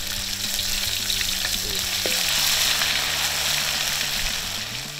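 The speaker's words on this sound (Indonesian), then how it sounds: "Pertama, tumis dulu bumbu halusnya." Ground spice paste sautéing in a pan for a Central Javan dish, a steady close sizzle and crackle of frying throughout, with faint stirring and cookware clinks and no talk.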